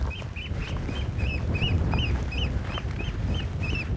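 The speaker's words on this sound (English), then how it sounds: "Noisy bird." A waterfowl calls repeatedly in quick, nasal honking notes, about three per second, over a steady low rumble of wind or water, on the Essex coast between Rowhedge and Brightlingsea.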